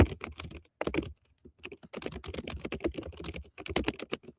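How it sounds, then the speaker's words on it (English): Rapid typing on a computer keyboard, close and fairly loud, in uneven bursts of clattering keystrokes with short pauses between runs. "Sorry if you guys hear the typing."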